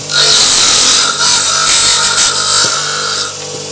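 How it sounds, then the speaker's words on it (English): A graphite golf club shaft for a TaylorMade Stealth 2 fairway wood is cut to length while clamped and turned, a loud steady high-pitched power-tool whine and grinding held close up, easing slightly near the end, with no talk. "I like to turn the shaft while I'm cutting it"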